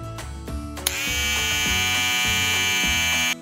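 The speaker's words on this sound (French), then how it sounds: "Tout d'abord, on doit tondre Toutou" Steady electric buzzing from hair clippers running continuously after a few brief sounds, close and fairly loud, with no talking.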